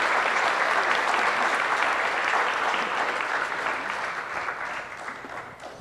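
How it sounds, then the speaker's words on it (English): An audience at an evening book round-table event applauds to welcome the panelists, a dense, steady roar of clapping that holds loud and slowly tapers off over several seconds, with no voices on top. "join me giving a round of applause for Mychal and the panelists."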